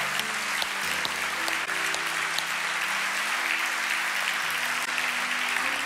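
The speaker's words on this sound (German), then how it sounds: "Lass uns mal einen Applaus geben für die Leute, die heute ihr Leben gelegt haben." An audience bursts into sustained applause at a talk event, dense steady clapping filling the room throughout, with no voices standing out.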